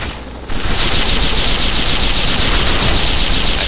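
Sustained turret gunfire in Fallout 3, a dense continuous hiss-like roar of rapid shots that starts abruptly after a brief quieter moment and holds loud and steady throughout.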